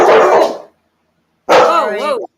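A dog on a remote video call barks in two bursts: a short rough bark, a pause of silence, then a louder, longer bark with a wavering yelp-like pitch, close to the microphone.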